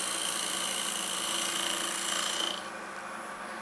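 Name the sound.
wood lathe turning a bowl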